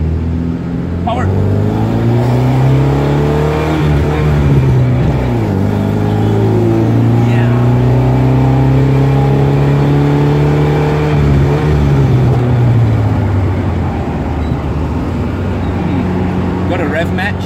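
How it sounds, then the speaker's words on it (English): Engine of a 1979 Alfa Romeo Alfetta 2.0 heard from the cabin while driving, rising and falling through the revs with a loud throaty drone across several gear changes, with wind noise and talk over it. "This, the engine makes the best music in the world."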